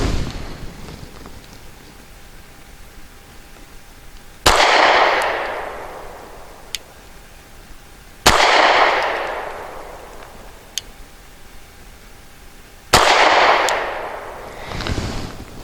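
A Cosaint Arms COS11 compact pistol fires three loud, sharp shots at a target, spaced several seconds apart. Each crack rings out in a long decaying tail, with faint clicks in between.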